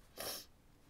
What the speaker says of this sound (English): Sorry, sniffle.